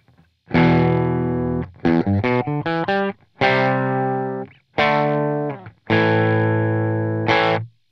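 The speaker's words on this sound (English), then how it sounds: "here's how the amp sounds without any effects whatsoever" Electric guitar through a clean amp with no effects, slightly overdriven, plays sustained notes and quick plucked runs, clear and close, a touch of breakup on the louder strums.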